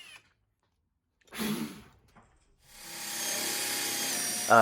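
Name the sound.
spade bit drilling holes in wood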